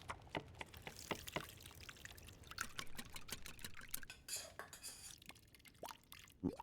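Water pours and splashes in The Long Dark survival game, a soft continuous trickle broken by scattered drips and small clicks, faint and alone with no speech.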